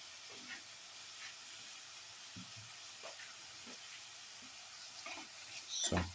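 Tomato pieces sizzle in a hot pan, a faint steady hiss with a few small pops and clicks and a louder burst near the end, with no talking.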